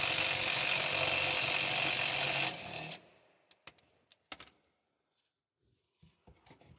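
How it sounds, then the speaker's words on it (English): A ratchet works loose the bottom nut holding a semi truck air bag to its bracket: a steady loud whirring run at first, then a handful of sharp separate metallic clicks and clacks, close by. "Remove the bottom nut holding the bag to the bracket."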